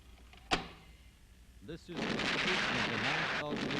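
A recorded compression explosion at a 9,000-horsepower cracked-gas compressor in an industrial plant begins with a single sharp blast, followed by a loud, sustained rumbling roar.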